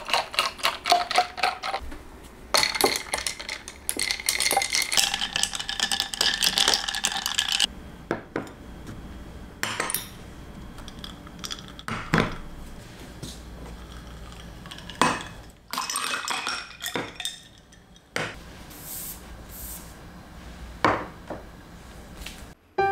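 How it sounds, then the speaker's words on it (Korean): Coffee being made before drawing with Staedtler Luna colored pencils: clinks of cutlery against cups and dishes, scraping and rubbing, then scattered taps and knocks, fairly close and intermittent with no talking. "작업에 들어가기 전에 커피를 만들게요."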